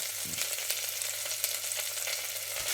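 Green chillies and tomatoes frying together in a pan, a close, steady bubbling sizzle with faint crackles, no one speaking.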